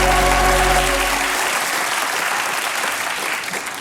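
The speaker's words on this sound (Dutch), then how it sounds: "Applaus voor Janine, de eindredacteur." A studio audience on a Dutch talk show breaks into loud applause that fades gradually over a few seconds.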